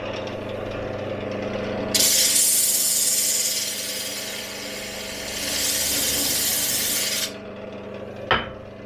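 Wood is sanded against a homemade sandpaper disc, making a loud, steady rasping rub that swells for several seconds over a constant motor hum and then stops with a short knock.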